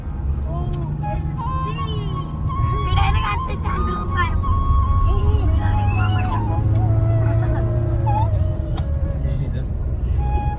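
Car engine rumbling steadily while driving toward a parking area, a low continuous drone with passing traffic noise, close and loud, with people talking over it throughout.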